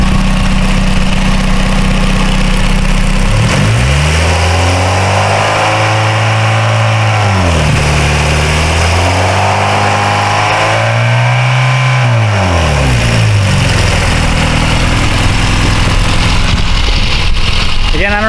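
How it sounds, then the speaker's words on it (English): A motor engine with a rattling noise revs up and back down in several loud, close swells, its pitch rising and falling over a steady idle, with a voice briefly audible. "when I start revving it up, you're going to hear this like rattling noise"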